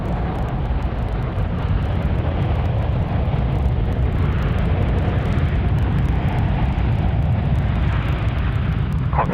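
An airliner landing at Sydney Airport, runway 34 right, gives a loud, steady broadband roar of engines and rushing air that holds evenly throughout, with no talk.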